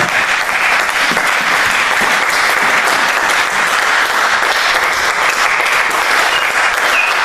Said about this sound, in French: Est-ce qu'on peut acclamer pour Dieu?